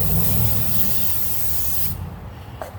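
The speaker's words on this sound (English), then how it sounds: "Spraying a little more brake clean on there just to get the rest of that dirt off" Brake cleaner sprays onto the rear brake caliper of a 2014 Ford F350 dually in one steady, close hiss lasting about two seconds, then stops abruptly, followed by a faint clatter.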